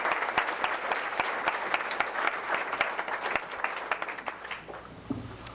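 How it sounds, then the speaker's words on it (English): An audience at a school board meeting gives a big round of applause. The dense, steady clapping holds for several seconds, then thins and fades near the end. "I want you to give Jeff a big hand as well."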